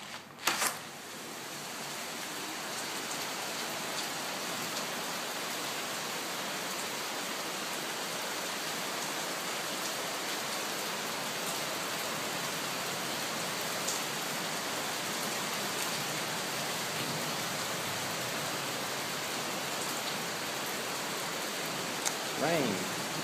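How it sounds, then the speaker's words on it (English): Steady rain falls in a monsoon downpour around a chartered yacht, a dense, even hiss that runs unbroken from start to finish with no clear voices. "Rain."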